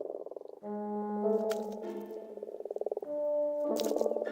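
Frogs croak in loud, rapid pulsing trills and drawn-out buzzing calls, several voices overlapping close by with brief pauses between bursts.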